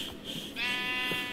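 Sheep bleating in the blocky video game Minecraft, a short nasal cry that swells louder halfway through, heard alone against a faint background hum.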